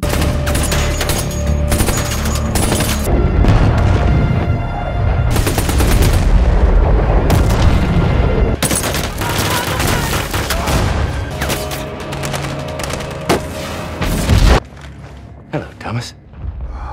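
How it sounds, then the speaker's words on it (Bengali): Continuous heavy gunfire in a film with rapid bursts and loud booms rattles on almost without pause, then drops away to scattered thuds and quieter movement near the end. "রোমানের আর্মি তাদের উপর অনবরত গুলিবর্ষণ করতে থাকে।"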